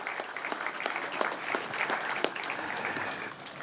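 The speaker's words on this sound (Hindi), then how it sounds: "तो एक बार तालियां बजा दीजिए इन लोगों के लिए।" An indoor audience claps at a music event, a moderate, even spatter of hand claps sustained throughout with a few sharper individual claps standing out.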